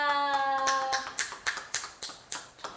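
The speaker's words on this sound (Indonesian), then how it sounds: "beri tepuk tangan untuk teman kita" Scattered claps from a classroom of students cheering a classmate, a handful of sharp hand claps in an uneven rhythm following a brief ringing tone at the start.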